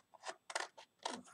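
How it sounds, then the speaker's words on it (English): Scissors cut out a paper net for a cuboid box in three quick, close snips, crisp and alone. "Cutting with a pair of scissors isn't as easy as it seems sometimes"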